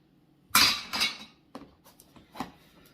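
A titanium long-handled spoon knocking against a plastic knife and fork in a camp kitchen, one sharp clatter followed by several lighter, scattered clinks and taps, close and otherwise quiet.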